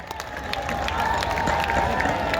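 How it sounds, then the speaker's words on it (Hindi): A large outdoor crowd at a Ramlila celebration applauds to welcome a guest, a broad, continuous roar of clapping mixed with crowd noise and a faint tonal hum beneath. "एक बार सभी जोरदार तालियों से स्वागत करें मित्रों"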